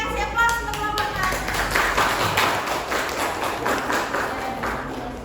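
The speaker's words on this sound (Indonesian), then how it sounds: "Kasih aplaus untuk kelompok 6." A classroom of students applauds a presenting group, with a lively burst of many hands clapping near the listener that continues steadily and tapers slightly over several seconds.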